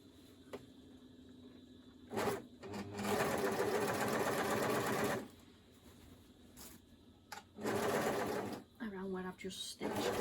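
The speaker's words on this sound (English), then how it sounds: "Just going to overlock." An overlocker runs in bursts as it sews around a stitched seam, its fast whirring stitch rising and stopping several times close by, with speech in the clip.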